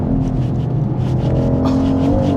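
A BMW X3 M50 engine and exhaust drone steadily and loudly from inside the cabin, a continuous low rumble that rises slightly in pitch toward the end.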